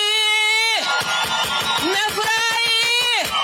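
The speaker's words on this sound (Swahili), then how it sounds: "Mpigieni makofi." A crowd at an outdoor political rally in Nandi County cheers and shouts loudly and continuously, with a voice or horn-like tone sustained at the start and end and rhythmic claps or thumps throughout.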